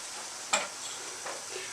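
Green pumpkin halwa roasts in ghee in a pan, with a soft continuous sizzle broken by a sharp stirring scrape and a fainter second stir shortly after.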